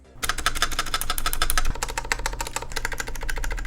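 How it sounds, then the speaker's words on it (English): A custom-built mechanical keyboard is typed on rapidly and heavily, with dense, loud clacking keystrokes and rattling from long keys such as the spacebar, backspace and shift. "Did you notice that when I'm mashing on those long keys like backspace or spacebar or shift, that there's a whole lot of rattle?"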